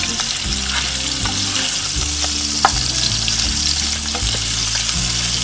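Ginger and garlic fry in a tablespoon of oil in a pan for a chicken and broccoli stir fry, giving a constant close sizzle with a few sharp pops and a low rumbling hum beneath it.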